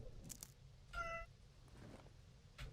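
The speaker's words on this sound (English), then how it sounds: "Definitely heard a cat." A cat meows once in the dark survival horror game Darkwood, a short, fairly faint cry over a low ambient rumble, with soft scattered noises before and after.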